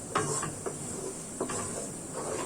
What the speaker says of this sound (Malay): Mari kita kacau bahan blender kita, gaul sebati semua.